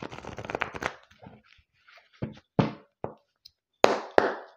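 Light Seers Tarot cards being shuffled by hand: a dense riffling burst at the start, then separate soft taps and slaps of the deck in uneven rhythm, close and quiet with no talking.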